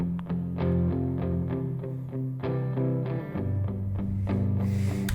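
Palm-muted electric guitars chug through an amp with a crunchy, slightly distorted tone, playing short, choppy chords.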